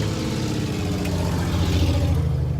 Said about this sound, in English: sorry for the traffic. I live on a little back road